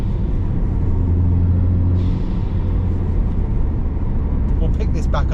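Ford Focus ST mk3 engine pulling hard, a loud steady rumble with droning engine tones that shift upward, heard from inside the car with a voice talking over it.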